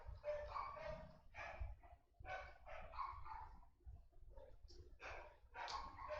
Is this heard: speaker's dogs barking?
yes